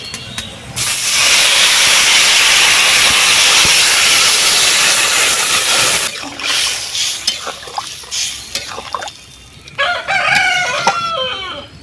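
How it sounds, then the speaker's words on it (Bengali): Water poured into a hot pan of fish curry spices bursts into a loud, steady hiss of steam lasting several seconds, then dies down to scattered crackles while a rooster crows nearby. "এবারে জল দিয়ে দিচ্ছি"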